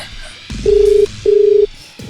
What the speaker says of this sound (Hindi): बनारस फोन लगा के देखते हैं।